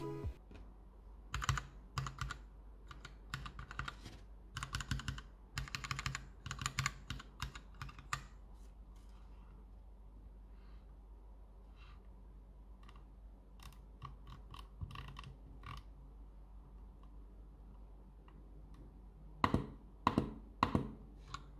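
Mechanical keyboard fitted with Gateron Milky Red linear switches at 45 g actuation, typed in bursts of rapid keystrokes with pauses between, near and clear, with no talk.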